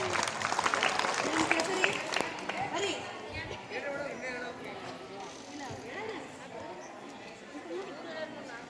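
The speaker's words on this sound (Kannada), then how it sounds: "ಜೋರಾದ ಚಪ್ಪಾಳೆ ಬರಲಿ." Loud applause for a correct answer at a school quiz program breaks out strongly at first, then fades as crowd chatter and voices take over.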